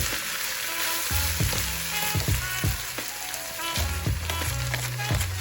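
Ground meat sautes in a pan with a constant close, crackling sizzle, punctuated by regular knocks and scrapes of a utensil turning it.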